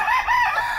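A rooster crows loud and close in a short, wavering burst, with the chicken flock in the background as the birds are let out of their coop on a winter morning.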